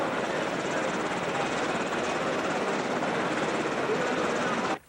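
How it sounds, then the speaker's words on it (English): A UH-60L Black Hawk helicopter gives a loud, steady, close rotor and engine roar for about five seconds, then cuts off abruptly at the end, with a voice talking over it. "The UH-60 Lima Black Hawk helicopter."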